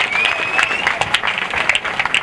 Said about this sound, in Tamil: கைதட்டுகள் கால்களிலே ஒலிக்கட்டும் இங்கு.